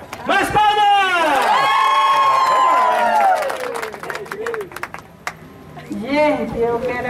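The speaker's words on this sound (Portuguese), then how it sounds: "Mais palmas!" A lively crowd cheers and whoops loudly, with scattered clapping and excited shouting voices that fade somewhat before rising again.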